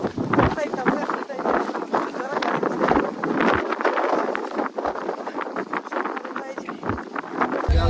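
Strong wind buffets the microphone atop Mullayanagiri hill, a steady roaring gust that persists throughout without pause, loud and close.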